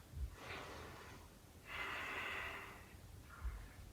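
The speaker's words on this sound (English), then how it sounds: "take a breath here." A person breathes in a yoga flow: soft, airy inhales and exhales, three separate breaths at close range, quiet and with no talking.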